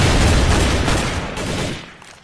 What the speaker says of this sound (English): Everybody got assault rifle. It sounds good.